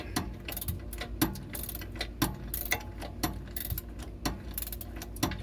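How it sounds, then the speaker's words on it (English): A ratchet wrench and socket work a 21 mm bolt and nut on a BMW 650i E63 rear differential, giving close, steady bursts of rapid ratcheting clicks with sharper knocks at intervals, with no talk. "I'm moving the wrench and holding back with the socket because it spins"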